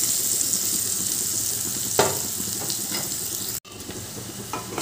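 Spice paste sizzles and fries steadily in a hot pan for shahi paneer, a broad hiss with a few louder spatters and brief stirring scrapes, no voices.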